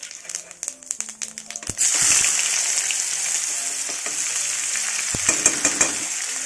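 Cumin, green chili and spices hitting hot oil in a pan with a few sharp clatters at first, then a loud, continuous sizzle that holds steady with small bursts of crackle near the end.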